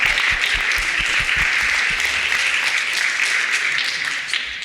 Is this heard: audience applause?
yes